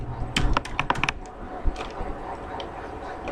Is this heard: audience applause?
no